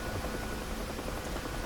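A helicopter in the DCS flight simulator climbs with a steady, dense rotor and engine roar that fills the sound without letup and has no talk over it.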